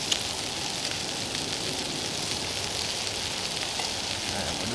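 Bacon fries over a hot campfire with a dense, continuous crackling sizzle, steady and close throughout, with no voices.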